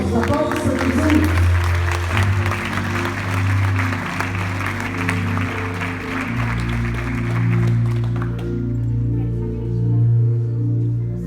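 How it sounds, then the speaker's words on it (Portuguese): A congregation applauds at a healing and deliverance church service, sustained dense clapping over loud sustained music that fades out near the end, leaving the music alone. "Aplausos, aplausos para Jesus."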